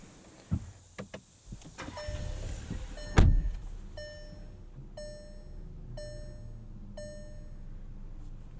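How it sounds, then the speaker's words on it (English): A 2022 Volkswagen Tiguan SEL R-Line AWD is started from inside the cabin: a few clicks and a door thud, then a loud brief crank as the engine catches and settles into a low, steady idle under a regular series of chime beeps. "Let's hop up front, start this Tiguan up"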